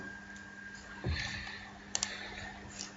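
A computer mouse clicks while working in an Excel spreadsheet, a few quiet, sharp clicks spaced apart over a faint background hum.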